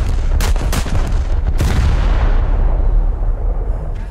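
Main guns of an Italian premium dreadnought battleship fire in War Thunder, several heavy booming salvos in quick succession early on, then a long rumbling decay fading away, loud and close with no talk.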